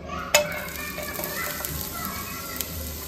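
Onions hit hot oil in a home kitchen and sizzle steadily after a sharp initial clatter as they are added, with stirring scrapes over the continuous frying hiss, close and moderately loud.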